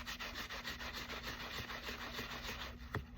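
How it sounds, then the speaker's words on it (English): A shoe sole being rubbed in circles with a magic eraser and alcohol, a soft, close, continuous scrubbing with repeated strokes. "Rubbing it in a circular motion."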